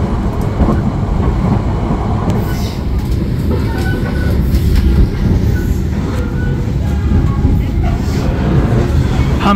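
Argo passenger train rolling on rails as it nears Semarang Tawang station, heard from inside a carriage: a loud, steady rumble with rhythmic clatter throughout, with no talk.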